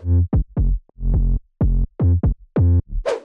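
A bass house synth sub bass in FL Studio, processed with OTT, distortion, EQ and sidechain, plays a bouncy riff of clipped and sustained low notes with brighter, grittier harmonics, loud and alone, closing on a noisy burst.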